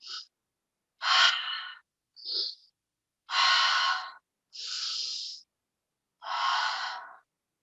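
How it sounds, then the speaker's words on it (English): Yoga breaths in and out, six distinct breath sounds spaced about a second apart, fairly close and clear, with silence between them and no talking. "breathing in, breathing out"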